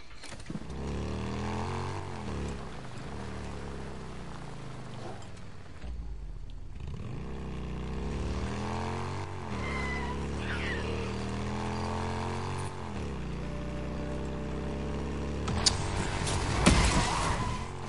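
Motorcycle engine in the video game Days Gone, a steady low rumble with rising and falling revs as the bike rides on, throttle swells and a few sharper bursts near the end, no talking.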